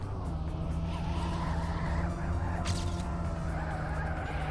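Engine and tyre noise from cars in a racing video game, a continuous dense drone with a skid-like sweep midway, steady and fairly faint throughout with no talk.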